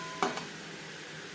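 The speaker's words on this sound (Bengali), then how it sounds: "লবণ হলুদ দিয়ে তিন চার মিনিট আম ভেজে নেব" Mango pieces frying in a pan with salt and turmeric give a steady, faint sizzle, broken early by one brief metallic clink of a utensil.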